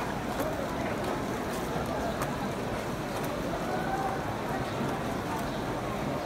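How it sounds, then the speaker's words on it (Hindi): Rain falls outdoors in Makkah as a steady broadband hiss, mixed with crowd and ambient background noise and a voice talking over it. "यहाँ पे बारिश हो रही है।"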